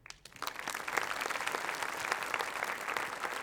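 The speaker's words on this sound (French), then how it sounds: "Merci de les applaudir." Audience applause fills an awards ceremony for event-industry trophies, a steady wash of many hands clapping that swells quickly after a brief quiet start and holds evenly at moderate loudness.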